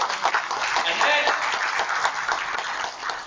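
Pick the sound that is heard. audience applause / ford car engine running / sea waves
audience applause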